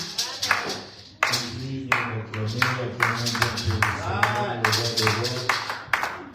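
A church congregation claps in acclaim during worship, rhythmic group clapping close by with singing or voices running alongside.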